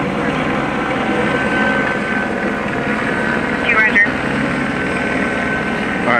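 Helicopter hovering over a Los Angeles street at night during a breaking-news police scene, a continuous loud rotor drone under people talking.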